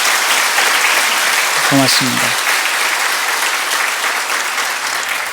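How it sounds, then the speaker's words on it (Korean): A church congregation applauds visiting guests from Russia with steady, full clapping throughout, and a single voice briefly speaks in the middle. "저쪽에 박수로 좀"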